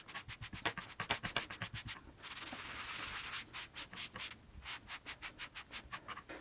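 A cloth wipes Alcantara fabric with cleaning solution, producing a run of quick, rhythmic rubbing swipes up close, followed by a longer steady scrub and more short strokes, with no talking.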